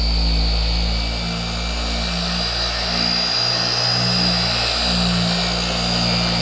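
Polishing machine buffing the paint of a Toyota MR2 at a slightly higher speed with light cut, a steady close whirring hum that holds throughout without talk.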